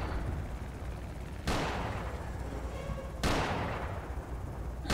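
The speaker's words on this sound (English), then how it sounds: "They are shooting." Gunfire in the video game Project Zomboid: two sharp gunshots about two seconds apart, each trailing off over a low background rumble, with no talking.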